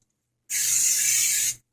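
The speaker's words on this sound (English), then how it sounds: "take my spray" A single steady burst of cooking spray from a can onto salmon fillets being prepped for the grill, about one second long, close and loud, with a sharp start and stop and no talking.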